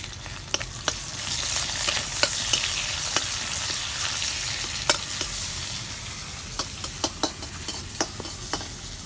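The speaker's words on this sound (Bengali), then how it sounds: "তেল গরম হয়েছে এখন আমি পেঁয়াজ দিয়ে দেবো" Onions fry in hot oil, a steady close sizzle punctuated by sharp spatters and pops scattered irregularly, with no voices present.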